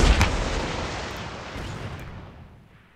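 A rocket launcher fires in the ARMA 3 military video game: one sharp, loud launch blast, then a long rumbling tail that fades away over a few seconds, with no voices.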